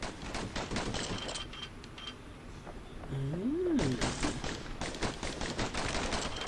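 Twin slinger pistols firing in the video game Bastion: a steady run of sharp, rapid shots repeating through the whole stretch, with a brief lull where a rising-and-falling electronic whine sweeps in before the volley resumes.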